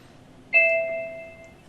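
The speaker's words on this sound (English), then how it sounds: "We hear a chime on the camera" A UniFi Protect AI 360 camera sounds a single clear electronic chime during device adoption. The chime rings out once and fades slowly in a quiet room.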